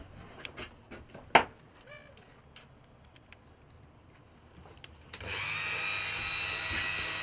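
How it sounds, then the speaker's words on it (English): Light taps and handling of a wooden fishing lure give way to a Dremel rotary tool spinning up, a loud steady high-pitched whine that continues for the last two seconds. "now I take it over to the Dremel to do the next stage"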